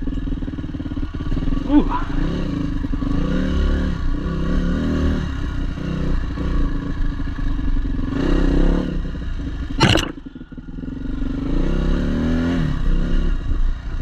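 A Yamaha WR400F dirt bike ridden along motocross trails, its engine note rising and falling with throttle, along with clattering bumps and a short sharp noise near the end, plus a brief vocal exclamation.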